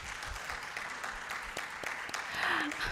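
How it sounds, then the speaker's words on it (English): Applause from the audience at the close of a policy and investment panel session, scattered claps at a distance that swell slightly louder toward the end, fairly faint overall. "A big round of applause."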